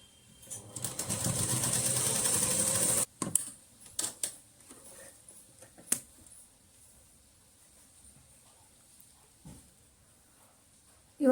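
A sewing machine stitches a kurti during an alteration, running in one steady, close burst for about three seconds. It then stops, leaving only a few faint handling clicks and rustles.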